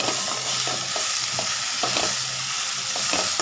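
Onion dosa frying on a hot pan, giving a steady close sizzle with occasional scraping or stirring taps.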